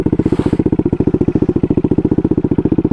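A turbocharged Honda Grom motorcycle with a swapped-in CBR engine idles nearby, its loud, evenly spaced exhaust pulses chugging at a steady rapid rhythm for three seconds, with no talking.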